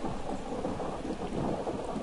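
A rolling thunder rumble plays with steady rain during a storm in the Ao Oni game, a dense continuous low roar with a hissing downpour layered over it, loud and unbroken for the whole stretch.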